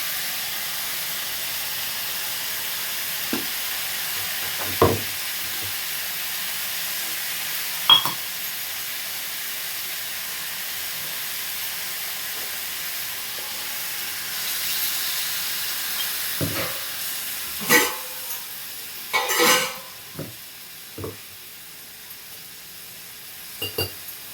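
Ground masala paste sizzles and hisses in a pan of crab gravy, a steady low frying hiss broken by occasional spatula scrapes and louder stirring clatter near the end.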